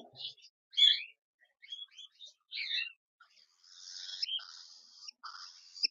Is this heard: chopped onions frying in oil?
no